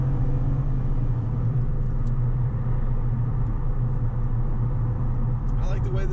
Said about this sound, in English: Acceleration on the side road here.